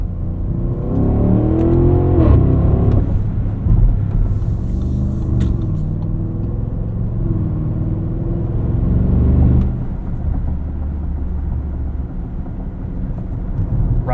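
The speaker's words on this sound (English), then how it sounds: "Love the way this 4-liter twin-turbo V8 sounds." A 2024 Audi SQ8's 4-liter twin-turbo V8 drones low and muted while driving, rising in a couple of revving pulls with gear changes and settling into a steady cruising rumble, loud and close.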